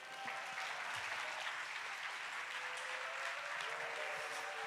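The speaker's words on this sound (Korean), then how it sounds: "목사님 나오실 때 할렐루야로 하나님께 영광 돌리며 박수로 맞이하겠습니다" A church congregation at a Yoido Full Gospel youth prayer meeting applauds to welcome the pastor, a steady, even roar of many hands that stays faint and distant throughout with no break.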